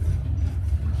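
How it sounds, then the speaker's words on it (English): A garbage truck engine rumbles at a steady low idle, close and continuous for a brief moment with no other sounds. "Here's a garbage truck."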